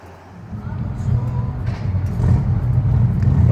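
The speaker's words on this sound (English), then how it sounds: "So I'm gonna hop on the bike and got a little bit of wind." Motorcycle riding toward Spearfish Canyon near Sturgis, a steady low engine rumble under buffeting wind noise that swells slightly as speed builds, close and loud throughout.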